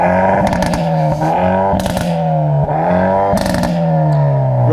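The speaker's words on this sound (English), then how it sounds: "So start the Hyundai. That already sounds better." A Hyundai i30N engine is revved repeatedly, several sharp throttle blips rising and falling in pitch, loud and close with exhaust crackle between the revs.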